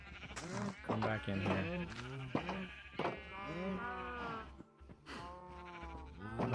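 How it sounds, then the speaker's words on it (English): Cows and calves lowing in Minecraft, a herd of eight adults with several babies, their drawn-out harmonic calls repeating throughout, overlapping and fairly close, while someone talks over them. "8 adult cows and a bunch of little babies"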